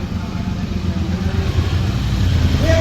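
A new motorcycle's engine idles nearby with a steady, rumbling drone that holds for the whole stretch, with no talk over it.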